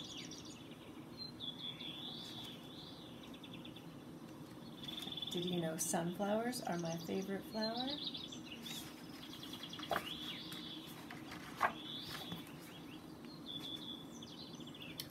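Soft bird calls and tweets recur throughout, with some slurred whistles, under a brief stretch of a woman's close speech in the middle.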